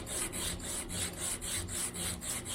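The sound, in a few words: sanding acoustic guitar wood with sandpaper on aluminium profile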